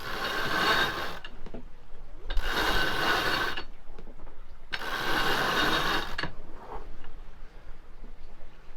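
A sailboat winch ratchets in three bursts of fast clicking while the jib sheet is hauled in, each run lasting about a second, close and fairly loud with short pauses between.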